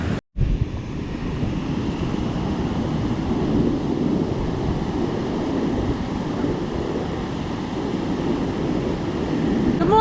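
Ocean surf rolling onto the beach at night at False Cape State Park, Virginia, a steady, loud wash of breaking waves with wind buffeting the microphone, continuous throughout with no voices.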